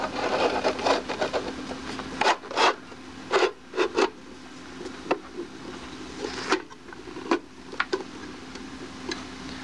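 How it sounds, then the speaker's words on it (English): Metal cover slid onto an Apple drive set on end with its cable out the back, making close scraping rubs and several sharp clicks and knocks in bursts, no voices. "slide the cover on with the vents toward the back."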